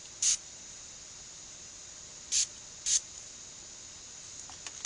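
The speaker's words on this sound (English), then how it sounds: "Alright, we're going to spritz." Water spritzed from a spray bottle onto cardstock before embossing: three short, sharp hissing bursts, one early and two close together later, loud against a quiet background.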